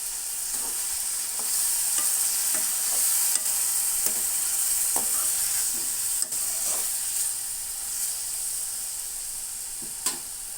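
Chopped tomatoes sizzle in hot oil in a pan for a tomato curry, a steady bright frying hiss broken by scattered spoon scrapes and clinks as they are stirred, close and alone.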